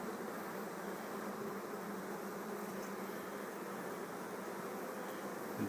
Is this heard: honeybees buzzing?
yes